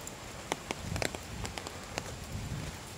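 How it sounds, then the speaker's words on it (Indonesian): Rain falling outdoors at night on paving blocks: a steady hiss of patter with scattered sharper drop ticks, close and continuous, with no talk. "Hujan dan agak konblok ya"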